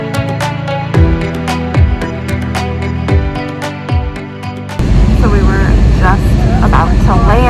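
A steady loud drone of an aircraft cabin in flight on a short Avianca flight to Baltra Island in the Galapagos, with a voice speaking over it through the first half before the engine roar swells.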